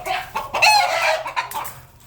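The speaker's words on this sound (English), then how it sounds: "Just roosters literally flying off the walls." Loud, close roosters in a shaking cage clucking and squawking in agitated bursts, with a brief strained crow-like call and some rattling movement.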